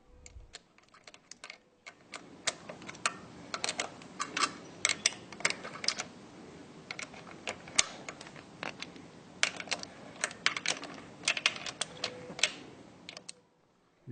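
A bolt being tightened on an inspection window cover, heard as a rapid series of small, sharp metallic clicks in irregular bursts, close and fairly quiet.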